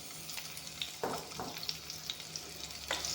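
Onions and five-spice fry in hot refined oil in a wok, a soft, continuous sizzle with a few stirring scrapes and crackles, heard alone and fairly quiet.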